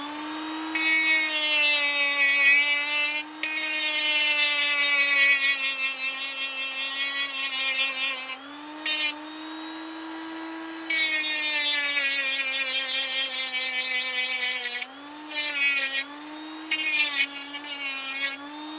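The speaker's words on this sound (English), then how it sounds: "So what I'm going to have to do is Dremel away some of this material here" A Dremel rotary tool grinds material off a Scalextric Porsche 956 slot car body in a steady, high whine, with brief pauses and pitch dips as the bit bites into the plastic, alone and close.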